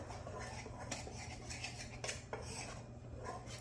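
Biscuit dough of flour, whole milk and vinegar being mixed in a bowl, with soft scraping and clinks of a utensil against the dish, quiet and close, no talking.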